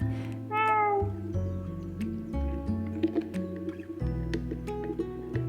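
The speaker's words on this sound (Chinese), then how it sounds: "还附带一只不请自来的漂亮猫咪。" A cat meows a few times up close inside an old rented flat with tall ceilings in Notting Hill, London, over a low steady hum and faint background clatter.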